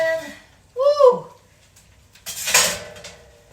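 A metal baking tray of crisp taco shells clatters as it is pulled from a hot oven, two short rattling bursts of metal and shells close by, with a bit of vocal sound at the start.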